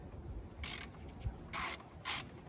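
A ratchet loosening the T40 bolts and 10mm nut that hold the idle control valve on a BMW M52TU/M54 intake manifold, heard as three short close clicking bursts with faint handling noise between them.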